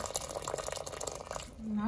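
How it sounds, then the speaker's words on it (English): Freshly boiled water is poured into a pot of cooking stew peas, a short splashing, gurgling pour heard close up over about a second before tapering off. "Then I have some water here that I just boil. I'm gonna go ahead and add that."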